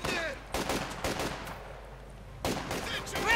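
SVT-40 semi-automatic rifles from Company of Heroes 2 crack in several separate sharp shots, a few close together early and another near the end, against a quiet battlefield bed.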